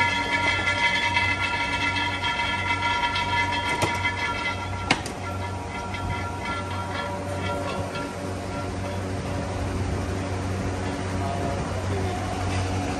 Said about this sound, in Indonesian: Sekarang ni kita dah jet lah kereta naik.